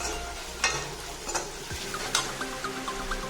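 Dried chilies fry in hot oil for an Assamese catfish and potato curry, giving a steady close sizzle with a few sharper stirring scrapes and pops.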